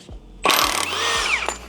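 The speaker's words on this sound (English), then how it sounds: "this is the Ingersoll Rand torque multiplying socket. Takes crank pulley bolts off with ease." An Ingersoll Rand torque multiplying socket on an impact tool removes the crank pulley bolt from a K24A2 engine in a 2006 Acura TSX, giving a loud, close, sustained rattling hammer burst lasting about a second, framed by short clunks.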